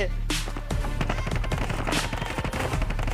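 Automatic rifle fire rattles in Standoff 2, fast loud bursts of shots close up in quick succession with brief gaps, continuing through the whole stretch while a player talks over it.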